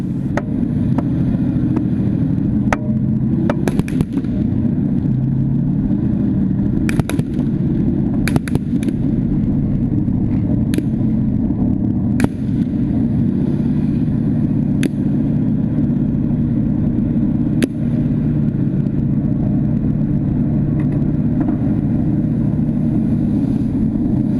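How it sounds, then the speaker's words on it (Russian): A tank withdrawing from a combat position under a smoke screen in urban fighting: a continuous, loud rumbling engine drone throughout, with scattered sharp cracks and bangs of gunfire over it. "На правом фланге танк выполнил боевую задачу и отходит."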